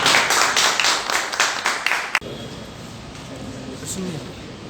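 An audience claps at a book launch for Ajitabh Bose at Cafe Reading in Tatanagar: steady, rhythmic clapping fills the first half and stops abruptly, leaving quieter room tone with faint voices.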